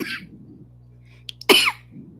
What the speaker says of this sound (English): Oh, this cough is just ridiculous.